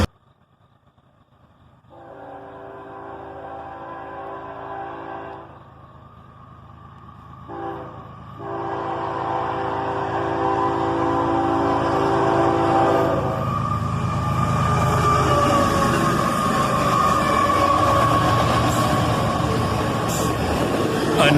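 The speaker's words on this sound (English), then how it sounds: "listen to that third locomotive as it screams by" A BNSF freight train led by ES44AC locomotives sounds a long multi-tone horn, then thunders past close by with a swelling engine roar and rolling rail noise that stays loud to the end.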